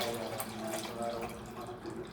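Tap water runs steadily into a sink while homemade cooking butter is washed, a close splashing stream with slight gurgling and no voices.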